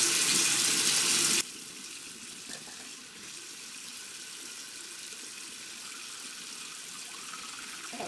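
A bathroom tap gushes loudly for about a second while someone brushes their teeth. After that the water drops to a faint, steady trickle with a few small splashes.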